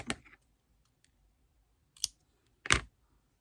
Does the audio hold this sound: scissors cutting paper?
yes